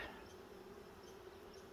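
Honeybees hum softly around a hive fitted with a top feeder, a faint, even buzzing drone that holds steady throughout with no voices.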